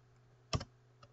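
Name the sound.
typing on a computer keyboard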